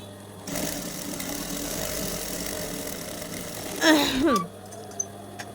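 A sewing machine hums steadily at close range while stitching a child's Afghani pajama, with a short burst of squeaky mechanical noise near the end before it stops.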